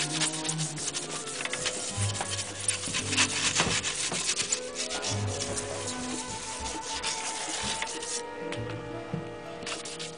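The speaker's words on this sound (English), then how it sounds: "We are going to sand this, the actual black casing." Sandpaper rubs steadily over the black plastic casing of a MadCatz fight stick, making continuous scratchy strokes up close with a few clicks and handling knocks.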